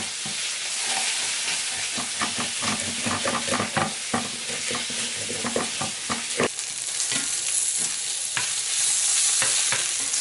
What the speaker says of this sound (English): While your asparagus is cooking